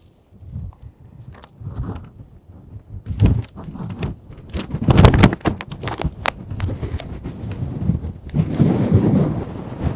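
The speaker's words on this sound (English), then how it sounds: "We'll try to get somewhere where the wind's not as crazy" Strong wind buffets an outdoor microphone in replanted coastal forest country at Rikuzentakata, Japan, producing loud, uneven low rumbling gusts that swell and fade across the whole stretch, with occasional bumps and footstep-like knocks.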